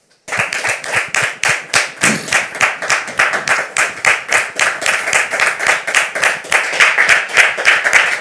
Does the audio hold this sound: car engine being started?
no